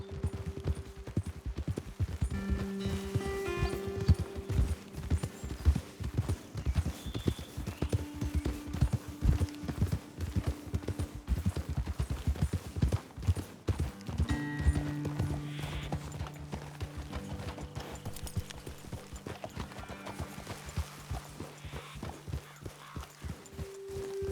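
Rhythmic clip-clop of horse hooves trotting steadily and close in Red Dead Redemption 2, with a faint musical backdrop and an occasional snort.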